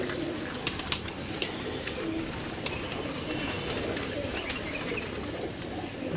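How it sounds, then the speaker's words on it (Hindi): Nag breed pigeons, known as black misse, coo steadily and fairly close, low throaty calls repeating over a constant background hum, with a few higher chirps mixed in and no talking. "ये जी नाग कबूतर है"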